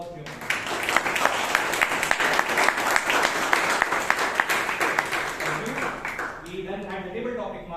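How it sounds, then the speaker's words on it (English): Sustained applause from a Toastmasters meeting audience for the speakers and evaluators, a dense steady wash of many hands clapping that tapers off near the end as voices begin to talk. "Can I round of applause for all 3 of them?"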